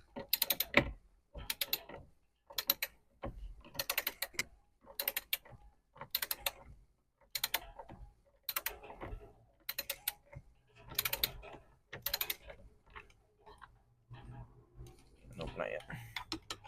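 Sharp ratcheting clicks from a wrench torquing the steering wheel bolt on a 2007 Ford Mustang GT, coming in short loud bursts separated by pauses, close up with a little mechanical creaking.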